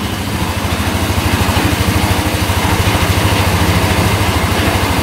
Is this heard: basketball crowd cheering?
no